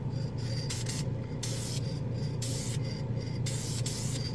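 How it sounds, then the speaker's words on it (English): Gloss coat sprayed from a can onto a plastic model, a steady hissing rush broken into several short bursts of a few tenths of a second each, close and fairly loud. "Wow, it just sprays beautifully."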